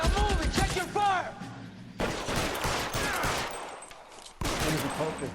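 Bursts of gunfire from the video game L.A. Noire, loud rapid volleys and overlapping shots with shouting voices mixed in, cutting off abruptly and resuming.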